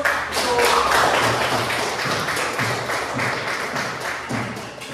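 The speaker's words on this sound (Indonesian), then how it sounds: "Oke, tepuk tangan dulu." A class of students claps for the first group after their science presentation. The clapping is steady, dense and close, and it continues for several seconds at an even level.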